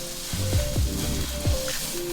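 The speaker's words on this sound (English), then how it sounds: "I'm going to go ahead and put this in my pan, my skillet that has already been preheated" Ground sausage sizzles steadily in a preheated skillet for a spaghetti sauce, a close, continuous frying hiss broken by a few scraping stirs.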